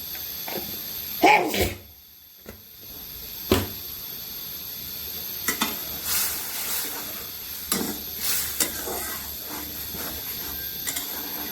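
Coriander and cumin being stirred and fried in oil for a hilsa and taro-stolon curry, a soft sizzle broken by intermittent scraping clicks and clatters of a utensil against the pan.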